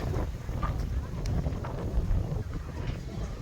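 Strong gusty wind by the water while fishing at Port Credit, Ontario, buffeting the microphone with a continuous low rumble for a few seconds.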